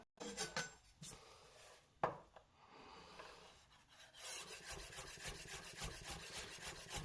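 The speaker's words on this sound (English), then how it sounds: "Grab a knife, nice and sharp, and we're just going to finely slice our garlic cloves" A sharp knife finely slicing garlic cloves on a board for a homemade tomato sauce, heard as soft, rasping cuts that settle into a quick, steady run of close, rhythmic strokes.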